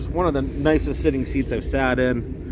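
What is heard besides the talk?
None of the usual background noises is heard.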